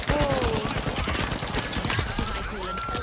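Rapid bursts of automatic turret gunfire in the Call of Duty video game, loud and continuous with a dense rattling rhythm, mixed with other game effects and voices talking over it.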